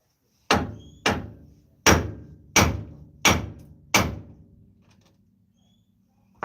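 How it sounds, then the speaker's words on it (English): Six sharp metallic hammer blows strike an axle part on a 2014 Dodge Ram 1500 during a bearing and upper arm replacement, evenly spaced and close, each ringing briefly before fading, followed by quiet. "we could just tap it with the hammer until it breaks loose"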